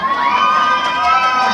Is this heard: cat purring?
no